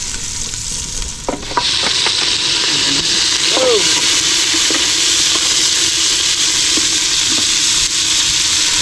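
Garlic sizzles steadily in hot oil in a pan, a dense, continuous frying hiss with occasional clinks of a utensil, and a voice speaks briefly over it.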